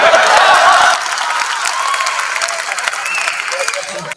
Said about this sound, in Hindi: अब आपकी ताली आ जाएगी